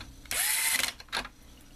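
A screw being driven into an ozone generator board with a small power driver, heard as a short, loud whirring burst followed by a brief second buzz, close up with no talking.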